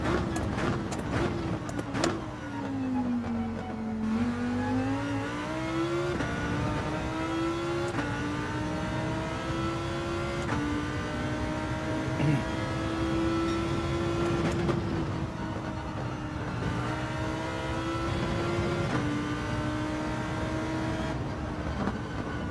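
Racing car engine from Gran Turismo 7 holding a steady high drone through a lap on worn tyres, pitch dipping and climbing with gear changes and braking, loud and continuous with no voices.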